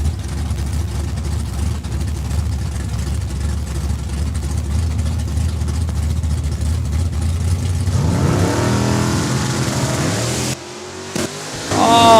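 A white Fairlane drag racing car at Saskatchewan International Raceway drones steadily at the line, then revs hard with a rising engine howl at launch before cutting off abruptly near the end.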